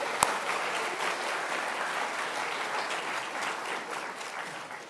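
An audience at a high school awards ceremony gives a dense, steady round of applause that lasts throughout and fades slightly at the end, with one sharp knock at the start.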